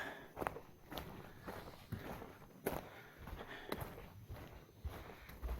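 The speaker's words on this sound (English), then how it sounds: "the quiet sound of my shoes on soft thistle." Soft, muffled footsteps on a yielding trail of soft thistle, a gentle irregular crunch at walking pace, close and quiet with no voices.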